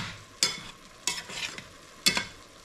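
Black beans with light seasoning cooking in a pot, stirred in three distinct scraping strokes over a low, steady simmering hiss, close and fairly quiet with no voices.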